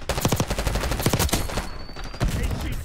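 Rapid bursts of gunfire crackle in a Call of Duty: Black Ops 6 match, several volleys in quick succession, loud and close, with a thin electronic tone in the later part.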